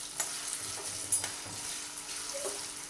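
Potatoes for batata poha sautéing in oil on a low flame, a steady soft sizzle with a few scraping stir clicks, close and alone with no talk.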